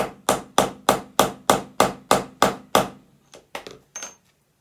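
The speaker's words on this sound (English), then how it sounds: "get the washer in place, then fit that baby on there and give it a whack" Nine sharp, evenly spaced hammer blows strike a metal eyelet setter on handmade 18th-century stays, loud and close, followed by a few lighter taps.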